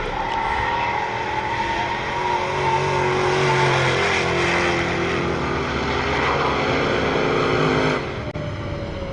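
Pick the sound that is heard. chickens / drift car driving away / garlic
drift car driving away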